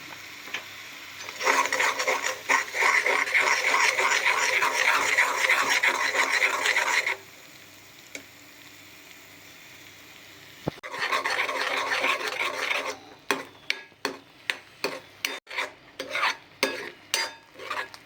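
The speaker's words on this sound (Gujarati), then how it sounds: "હવે તેને હલાવતા જઈશું." A mango and condensed milk mixture with ghee is stirred in a kadai for mango laddu. Bursts of scraping spoon strokes alternate with quiet pauses, ending in separate, rhythmic scrapes close by.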